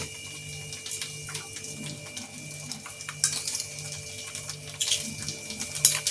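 A small amount of water poured while making Bengali-style chicken kosha, a soft steady trickle and splash with a few light clinks of kitchen utensils near the end.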